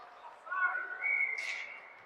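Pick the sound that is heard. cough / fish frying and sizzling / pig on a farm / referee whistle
referee whistle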